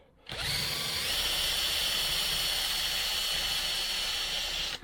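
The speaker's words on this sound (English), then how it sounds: "Drilled a 4mm pilot hole." A power drill bores a 4mm pilot hole during front suspension and brake work on a Land Rover Series IIa, a steady close whine running for about four seconds after a sudden start.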